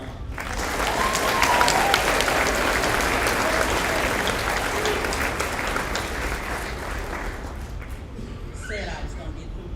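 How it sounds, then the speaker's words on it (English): Graduates clap and cheer at a high school graduation ceremony, a broad sustained wave of applause that swells early and slowly thins out, with scattered voices in the crowd. "So right now, give yourselves an applause"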